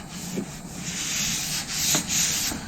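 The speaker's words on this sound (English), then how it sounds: "Just keep blocking until everything's nice and smooth." Sanding block worked back and forth over an auto body dent repair with 180-grit paper, a close, continuous abrasive rasp that swells and eases with each stroke, with no voices.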